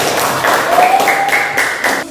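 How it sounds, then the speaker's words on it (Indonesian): Students in a classroom clap for the fourth presentation group, a short spell of scattered hand claps with some voices in the background. "Tepuk tangan buat kelompok keempat."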